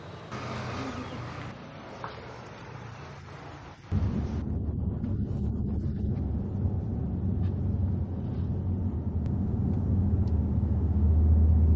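Steady low rumble of a luxury car ride on a round trip in Thailand, engine and road noise continuous and fairly loud, a brighter hiss fading out after the first few seconds, no talking.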